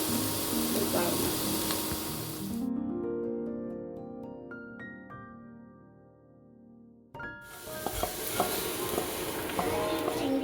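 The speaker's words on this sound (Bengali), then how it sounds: "পটলের দানাগুলো একটু ভেজে নেব" Pointed gourd (potol) seeds fry in a pan with a steady, close sizzle that stops for a few seconds midway and then resumes just as strongly.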